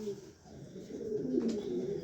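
A pair of pigeons coo in low, rolling murmurs, soft and near, with a person speaking faintly over them.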